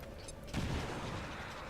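A frag grenade blast in the video game XCOM 2, a sudden loud burst of crackling explosion noise that cuts in after a short quiet moment and keeps roaring to the end.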